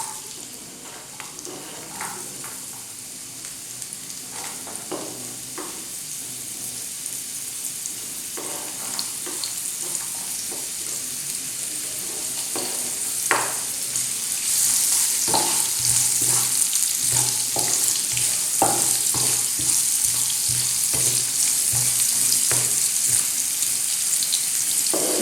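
Carrots frying in hot oil while being stirred, a continuous sizzling hiss that grows louder partway through, with scraping and clinking from stirring scattered through it.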